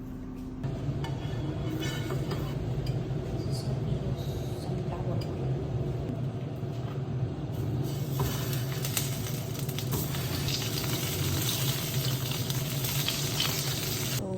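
Sausages sizzle steadily in a frying pan, a continuous close hiss with faint clinks and stirring, while a voice talks over the cooking.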